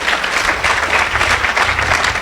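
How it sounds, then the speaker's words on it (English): Audience at a community gathering for 100 State claps in a round of applause, a dense, steady roar of many hands, loud and sustained throughout, with no voices over it. "please give yourselves a round of applause for being just this amazing place"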